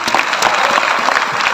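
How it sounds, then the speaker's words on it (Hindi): A short burst of dense, loud clapping from a crowd at a direct-selling company event, continuous throughout. "जोरदार तालियां"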